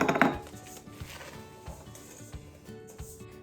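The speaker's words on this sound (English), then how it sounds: "Put the eggs into the bowl. And we're going to mix them around." Eggs being mixed in a bowl during a kindergarten baking session for apple butter muffins, heard as a strong clatter at the start and then light, irregular knocks and scrapes of a utensil against the bowl.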